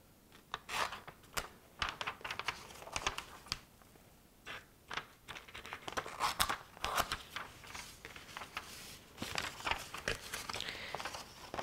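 Scissors snip through paper for a mixed media collage, giving a quiet run of short crisp cuts and paper rustles at close range, with no voices.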